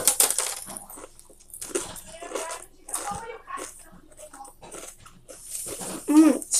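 Crunchy food is chewed close up in short, irregular crisp bursts separated by quiet gaps, with a brief vocal sound near the end.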